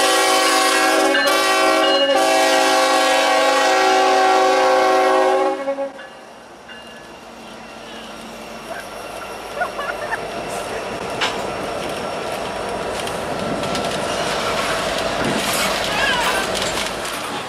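A freight train hauling ethanol blasts a loud, sustained horn for several seconds, then rumbles and clatters past nearby, with wheel and car noise continuing steadily outdoors.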